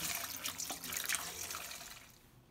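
Running tap water splashes over a tilapia fillet being rinsed, a soft, steady stream heard close but quietly that fades away near the end.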